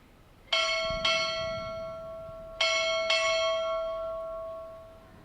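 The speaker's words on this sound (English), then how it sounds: "Cavalry, strike war bell." Four loud, ringing strikes of a ship's war bell at a Navy Recruit Training Command ceremony, arriving in two pairs with long sustained tones decaying between them, with no talk.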